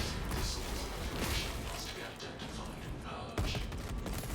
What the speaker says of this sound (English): We're out here rocking a heavy bolt rifle